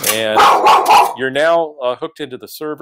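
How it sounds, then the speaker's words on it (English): A dog in a home office barks in a quick loud burst of rough yaps, then a few shorter yips, close and overlapping a man's speech. "Sorry about the dog."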